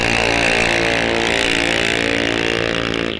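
A pair of drag racing cars launch off the line at Rock Falls Raceway in a bracket series race, a loud sustained engine roar with dense harmonic drone, close and steady, fading slightly at the very end.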